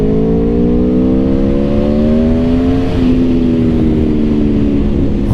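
Four-cylinder Aprilia Tuono V4 Factory motorcycle accelerating hard in second gear at part throttle, a loud continuous engine note rising steadily in pitch, dipping slightly at a shift-like point near the middle, then climbing again.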